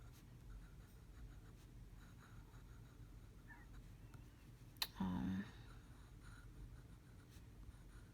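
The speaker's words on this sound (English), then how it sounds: "let me write the name of this ink" A fountain pen writing on paper, faint and close, with soft scratchy strokes and a couple of small taps partway through.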